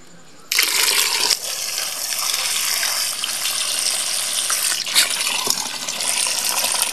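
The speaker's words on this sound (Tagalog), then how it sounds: "Kaya lagyan lang tubig." Water pours steadily into a cooking pot for several seconds while dinner is prepared, a loud, continuous gushing fill that starts abruptly and runs without pause, with no talk over it.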